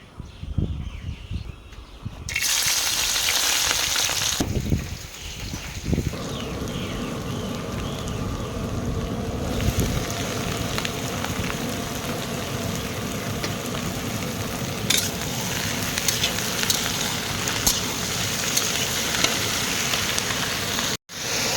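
Ivy gourd with green chillies, onion, salt and turmeric fries in a pan, a steady crackling sizzle that starts abruptly after a quiet moment and continues evenly for about twenty seconds, without talk.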